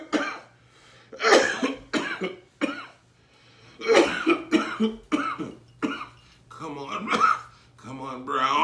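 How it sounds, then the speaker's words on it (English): A person repeatedly coughs and clears their throat in short, rough bursts separated by pauses, loud and close, with some vocal noises between the bursts. "help me clear my throat"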